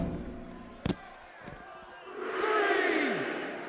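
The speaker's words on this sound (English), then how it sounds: "this crowd getting into the ref counting" Wrestling crowd in an arena at a North Korean wrestling promotion's Warzone show, a swelling roar of many voices rising in the back half after a sharp slam-like thud near the start, loud and sustained as the count goes on.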